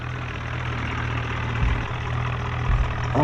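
Sawraj 963 tractor engine in a video game, a steady low droning rumble pulling uphill in one gear, with a couple of small surges in load.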